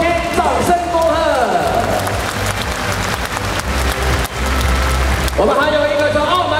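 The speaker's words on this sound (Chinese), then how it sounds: "给连来道中心掌声恭贺" A large audience at a ceremonial gathering in Taipei Arena breaks into a sustained wash of clapping. A speaker's amplified voice sits at the start and returns at the end.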